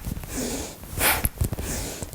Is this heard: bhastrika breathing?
yes